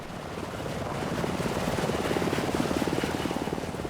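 A military rescue helicopter's rotor thumps in a steady rapid beat with a broad engine roar while hovering, growing slightly louder and holding steady, no voices.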